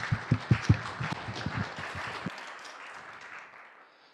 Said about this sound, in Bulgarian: Моля аплодисменти за Иван Иванов.